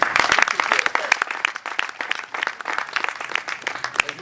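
A room full of people clapping at a talk about music composition, dense crisp applause from start to finish that swells and eases slightly.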